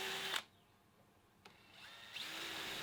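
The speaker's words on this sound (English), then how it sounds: "then drilled and tapped them M3" A power drill whirs while drilling holes into a metal spindle for M3 tapped threads, starting and stopping in short bursts, near and moderately loud, with no talking.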